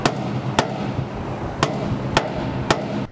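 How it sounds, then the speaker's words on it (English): A polymer ball is tapped against a metal grain bin, giving five sharp, hollow knocks at an irregular pace over a steady background hiss. "you can tap the ball against the bin as well"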